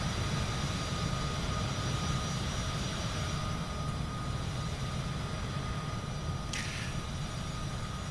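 A fixed-wing airliner climbs out after takeoff from Venice airport in misty conditions, its jet engines giving a steady, loud broadband roar that fills the cabin without letup.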